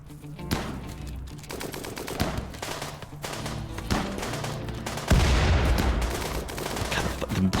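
Rapid bursts of gunfire crackle through a RimWorld fight, dense volleys layered with sharper single shots that grow louder and thicker toward the end.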